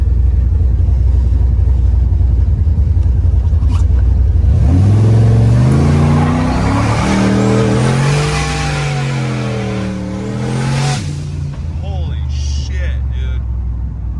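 A truck accelerating hard in second gear, its engine revving up loudly from idle into a rising, roaring climb that holds, drops back, then swells again before easing off.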